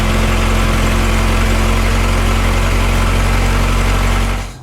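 An Isuzu Amigo engine with an exhaust leak idles loudly up close, giving a steady, low, droning rumble that cuts off abruptly at the end.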